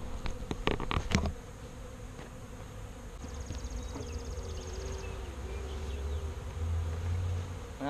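Honeybees buzz steadily around an open hive box fitted with a feeder, a dense close drone that holds throughout, with a few sharp handling knocks near the start.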